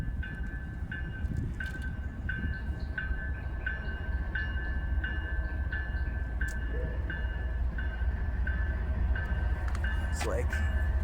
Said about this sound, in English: Second BNSF train, and that one's even bigger than the last